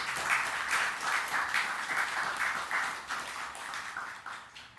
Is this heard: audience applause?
yes